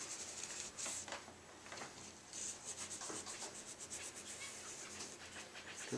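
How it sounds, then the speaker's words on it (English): Linseed oil is rubbed by hand around the wooden edge of a window being reglazed, making a soft, continuous scrubbing and rubbing sound in short repeated strokes, close and fairly quiet, with no voices. "just wash that window and rub it right around that edge of the wood"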